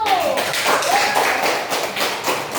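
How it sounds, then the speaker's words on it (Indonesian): Elementary school pupils in a classroom applaud group 1, a loud, close, dense patter of many small hands clapping, with a voice briefly audible over it. "Oke, beri tepuk tangan untuk kelompok 1."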